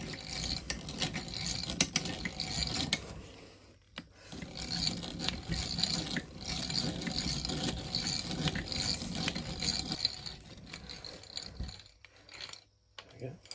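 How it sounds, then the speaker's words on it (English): Steady grinding and ratcheting of a hand drill biting into wood while carving a whistle, continuous for several seconds, pausing briefly before resuming close by. "So as I said, we're just going to drill down about halfway down."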